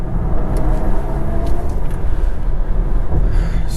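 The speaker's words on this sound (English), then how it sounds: "This is the i4 on a twisty roads." BMW i4 eDrive35 electric car on twisty roads, a steady loud low rumble of tyres and road noise heard from inside the cabin, with no voices.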